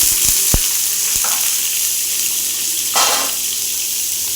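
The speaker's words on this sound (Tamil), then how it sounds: "கருவேப்பிலை, வரமிளகாய் இது போட்டு நல்லா வதக்கி விடணும்." Onion, curry leaves and dried red chilli sauté in hot oil with mustard seeds and fennel, giving a steady close sizzle with a few sharp stirring knocks early on and a brief surge of crackle near the end.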